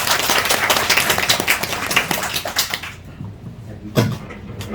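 An audience at a civil engineering licensing exam success talk claps in dense, steady applause for about three seconds, then it dies away, leaving a quiet room broken by one brief knock.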